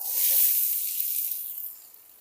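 Chopped onions, about a cup, hit hot mustard oil in a pan while cooking a chola recipe, giving a loud, bright sizzle that swells at once and then slowly eases off, with no talk.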